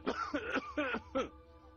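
An old man coughs in a short burst of four or five harsh, throaty coughs, close and fairly quiet, followed by a brief raspy breath.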